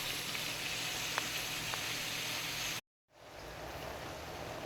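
Cabbage frying in a pot with salt and pepper, a steady, dense sizzle heard close, cutting out briefly to silence before resuming at a similar level.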